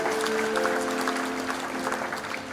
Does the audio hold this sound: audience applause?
yes